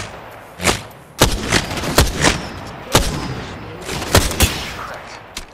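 Gunfire in the battle royale shooter Apex Legends, with sharp, loud shots spaced irregularly amid a busy game soundscape and some bursts close together.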